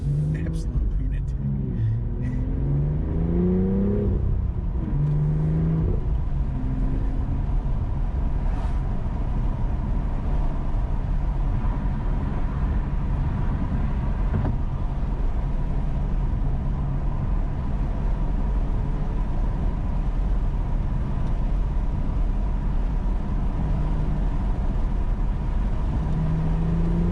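A BMW M2 or Honda Civic Type R driven hard on a Los Angeles canyon road, steady loud engine drone and road noise from inside the cabin with people talking over it.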